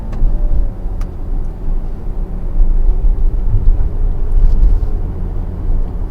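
A 2020 Mercedes GLC 43 AMG Coupe engine drones steadily from inside the cabin on a night drive, with low rumbling and slight swells in revs through gear changes, continuous and moderately loud.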